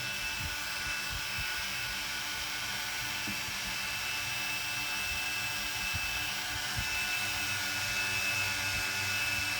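Steady high-pitched whirring of a Holy Stone HS110D toy drone's small motors spinning continuously, a busy electric whine with faint rattling underneath, close and constant throughout.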